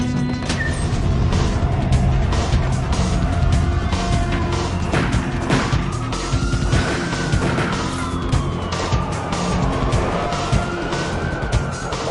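A car speeding through the city in the video game Max Payne, with a steady loud engine roar, tire noise and rising and falling engine pitch over a dense, continuous game soundscape.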